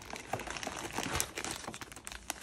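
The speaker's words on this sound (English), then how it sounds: "Go ahead and open the fastener kit." Plastic bag holding a 3D printer fastener kit crinkles steadily as it is opened, with soft continuous rustling and a few sharper crackles, fairly quiet and close.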